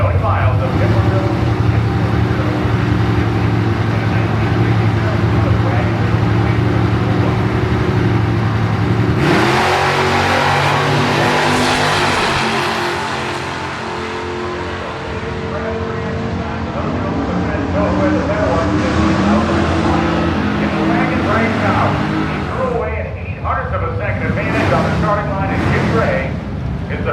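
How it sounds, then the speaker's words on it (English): A 1965 Chevrolet Malibu Super Sport with a 396 cubic inch engine and a Chevelle launch at an NHRA nostalgia drag race, loud engines roaring and revving up then fading away, with an announcer talking over the noise. "65 Malibu Super Sport, 396 cubic inch engine, and Tony Miles of Hipperville."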